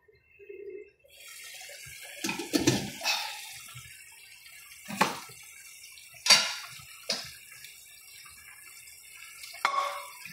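Water pours and splashes into a cooking pot in short bursts, with a few sharp trickles and drips close by in an otherwise quiet kitchen.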